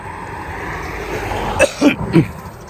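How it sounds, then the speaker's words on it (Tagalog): A few short coughs, two or three in quick succession, over a steady outdoor background hiss. "inuubo pa rin po tayo"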